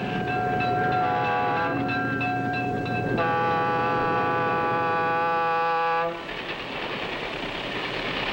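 A 1950s train rumbles past at about 60 miles an hour with sustained horn-like tones and steady mechanical noise, then the sound drops abruptly to a quieter rolling hum.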